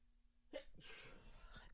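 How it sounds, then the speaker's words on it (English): A single sharp human sneeze with a quick intake of breath before it, close and fairly loud, followed by faint breathing. "And now I'm sneezing."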